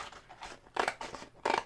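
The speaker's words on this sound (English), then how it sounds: "This is where we're breaking out our scissors." Scissors snip through a leftover section of vinyl sheet in a few quiet, crisp close cuts, each a short crunchy slice.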